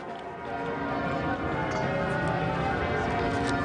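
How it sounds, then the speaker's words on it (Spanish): Church bells ring in a dense, continuous peal at a solemn Royal Air Force memorial event, overlapping strokes blending into a steady wash of tolling. "Las campanas sonaban a rebato por aquellos que lograron la definitiva batalla en los aires."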